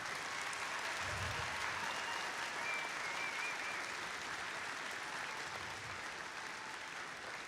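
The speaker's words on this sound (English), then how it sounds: "So let's give them all a round of applause real quick." Steady applause from an audience at a district championship event, honoring the volunteers: a dense, even patter of many hands clapping throughout, moderately distant, slowly easing near the end.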